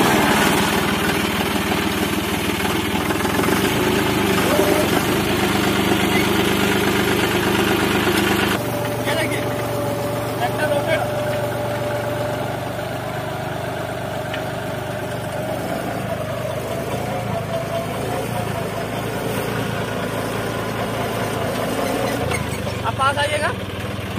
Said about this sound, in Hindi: ट्रैक्टर को हम स्टार्ट करेंगे